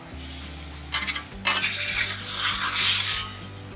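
A low country boil on a griddle is stirred and scraped with two spatulas, with a steady sizzle under metal scraping strokes and a low hum beneath, fading near the end.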